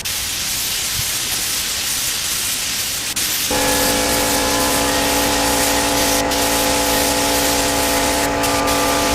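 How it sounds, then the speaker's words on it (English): A low-pressure airbrush sprays light coats of clear coat onto motorcycle parts during a Ninja restoration: a steady airy hiss, with a louder tonal whine from the sprayer cutting in partway through and running continuously, close and with no talking. "I tried to put this on with almost like an airbrush, very low pressure, putting it on with very light coats"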